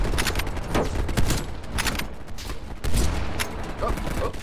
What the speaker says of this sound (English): Stop shooting at me, bitch.